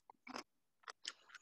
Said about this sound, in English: I'm gonna get a bean to crunch on.